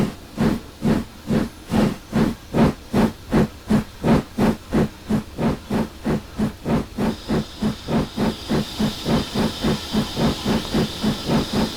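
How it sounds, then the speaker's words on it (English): Steady, rhythmic chuffing from an 1889 Baldwin 4-4-0 steam locomotive in Train Simulator Classic, with about thirty evenly spaced exhaust beats under a constant background hiss and a higher hiss joining in partway through. "I do think the idle roll is a little bit loud. I hear that over the chuff noise even at the lower ends"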